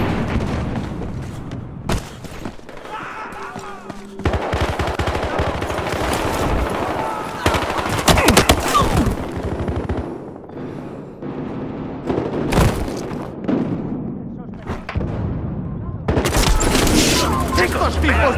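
Loud, sustained Battlefield Hardline gunfire: rapid automatic bursts and single shots crowd together with booms, almost unbroken through the whole clip, with shouted voices mixed in.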